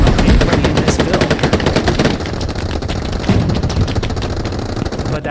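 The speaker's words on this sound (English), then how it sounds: "Browning sounding off as he tries to mow down anybody in this build" Browning machine gun rattles off long, loud, rapid bursts in a World War II shooter match at Sainte-Mère, with other gunfire and battle noise mixed in close by throughout.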